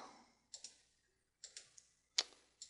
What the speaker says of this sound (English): we'll go ahead and click next